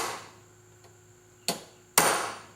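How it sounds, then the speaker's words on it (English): Two sharp metallic hammer strikes on a center punch marking steel for drilling, each ringing briefly with a bright decaying tail, near and loud after a faint tap and quiet hum. "But first I'll mark where I want to drill with the center punch"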